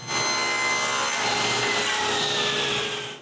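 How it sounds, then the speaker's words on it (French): A saw cuts a piece of plywood to width, a continuous, loud, close rasping drone that holds steady for about three seconds with no talking. "Ensuite, je coupe un bout de contreplaqué à largeur exacte."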